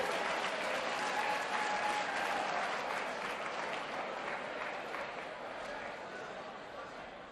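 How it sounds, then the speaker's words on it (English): A room full of seminar attendees gives a sustained round of applause, dense clapping with some cheering, holding steady before gradually thinning out. "Big round of applause."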